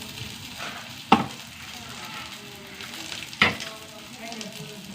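Urad dal, whole coriander seeds and cumin frying in a pan, a steady close sizzle with two sharper scraping stirs cutting through.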